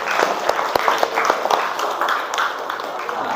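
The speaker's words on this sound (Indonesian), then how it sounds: "sebelum kita mulai diskusi, kita tepuk tangan dulu" A class claps together before a group discussion, a close, lively patter of many hands with some sharper individual claps, running steadily throughout, with faint voices underneath.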